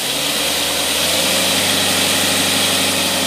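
Car engine fitted with a Carter AFB 9510 carburetor running on test, a loud, steady idle with an even low rumble and no talking.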